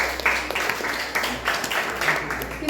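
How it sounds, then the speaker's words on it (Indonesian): A classroom audience applauds a group that has just finished its presentation, a brief burst of uneven hand clapping with several distinct claps standing out, heard nearby. "tepuk tangan untuk kelompok 3."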